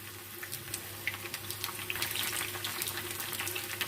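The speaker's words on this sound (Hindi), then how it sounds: "अभी हम लो फ्लेम पे हल्की आंच पे कोफ्तों को 2 से 3 मिनट के लिए फ्राई कर लेते हैं" Chicken kofte frying in hot oil over a low flame, a steady gentle sizzle with fine crackling pops, close and continuous with no one talking.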